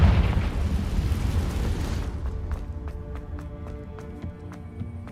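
A Confringo blasting spell from Hogwarts Legacy erupts in a loud, broad explosive roar that decays over about two seconds, leaving a quieter tail with small crackling pops and a tonal ambient hum.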